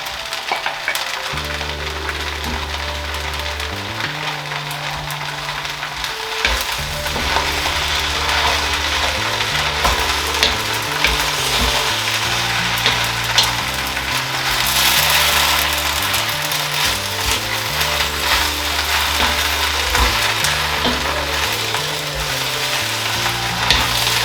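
Glass noodles with chicken and green onion are stir-fried in a pan, giving a continuous sizzle with scraping stirring strokes, under steady tonal background music for the whole stretch.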